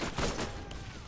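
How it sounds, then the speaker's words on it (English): Rapid gunfire from shooting enemies in the first-person shooter Borderlands, a quick cluster of sharp shots in the opening half second followed by fading echoing noise. "I'm just gonna run over here and shoot these guys"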